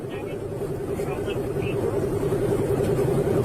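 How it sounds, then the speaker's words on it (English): Road noise and a steady engine drone from a car moving at high speed, recorded on a police bodycam, with the hum holding constant and loud throughout as a voice talks over it. "that car's got some get up and go to her"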